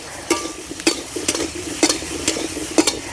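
Cubes of elephant foot yam frying in a pan while being stirred, a soft steady sizzle punctuated by regular spatula scrapes about every half second, close up.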